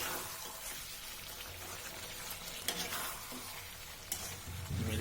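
Chicken with yogurt and milk cream being stirred in a kadai, giving a quiet, continuous sizzle with a couple of distinct spatula scrapes against the pan.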